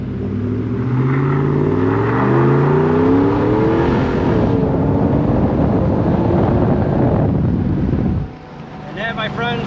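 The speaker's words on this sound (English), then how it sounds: "Want to keep it quiet so you guys can actually hear the exhaust." A car's exhaust grumbles loudly and close while driving, engine tones rising through the revs over wind buffeting, then the rumble drops suddenly near the end as a voice begins talking.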